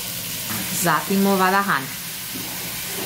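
Chopped onion and garlic hit a hot pan for risotto and set off a bright, continuous sizzle close by, while voices talk over it.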